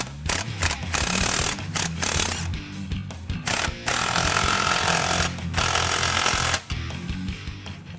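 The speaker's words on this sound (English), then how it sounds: "Now we can tighten up the front clamp." Impact tool tightening the front exhaust clamp during a Borla cat-back install on a Mustang GT, loud rattling bursts broken by short pauses, close and harsh.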